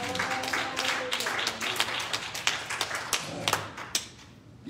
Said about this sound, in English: Will you clap your hands up to the Lord?